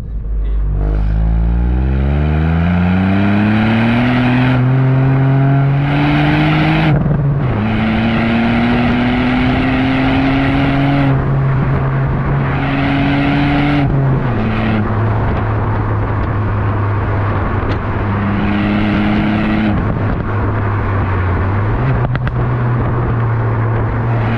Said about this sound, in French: petites pétouilles quand on change de rapport ou quand on rétrograde.